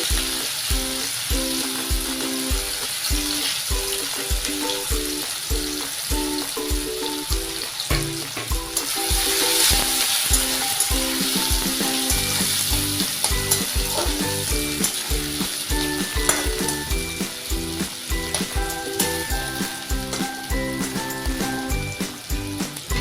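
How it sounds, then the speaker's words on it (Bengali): Chopped onions frying in a generous amount of hot oil for a prawn semi-gravy, with a steady loud sizzle throughout, rhythmic stirring and scraping clatter, and no talking. "পেঁয়াজটা ঢেলে নেওয়া হলো, পেঁয়াজটাকে ফ্রাই করে নেওয়া হবে।"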